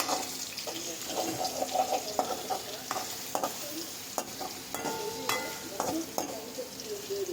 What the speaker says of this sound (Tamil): இப்போ சட்டியில் போட்டு ஃப்ரை பண்ண ஆரம்பிச்சிடலாம்.